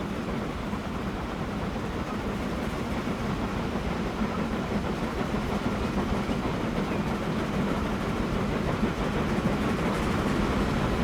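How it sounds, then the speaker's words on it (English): Branch line train in the rail simulation game Transport Fever 2 running past, a continuous rumbling roll with faint wheel clatter, steady and fairly close for the whole stretch, no voices. "So that train that's crossed underneath, that is going, it's a branch line train over to Bentham"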